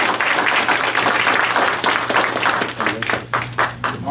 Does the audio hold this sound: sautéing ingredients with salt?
no